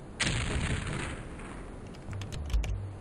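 Explosions from the turn-based strategy game OpenXcom sound in quick succession: a near, muffled blast and then a second, heavier thump after a short rumbling tail, with no speech.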